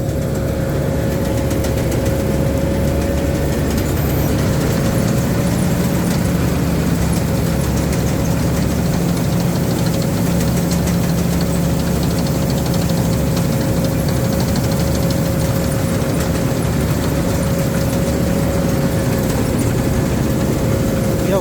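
Tamco Z3000 combine harvester engine idling: a steady, loud, unbroken mechanical drone with a constant hum running throughout, with no talk.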